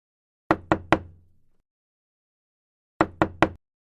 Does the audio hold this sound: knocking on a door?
yes